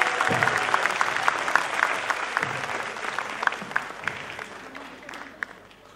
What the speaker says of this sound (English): Louder the claps, the more energy you feel on the stage